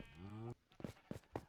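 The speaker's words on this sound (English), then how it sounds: "as you can hear, got some animals, fun colored sheep," Farm animals in a video game, a long low cow-like moo followed by three short bleating calls from colored sheep, fairly faint and close, with no talk over them.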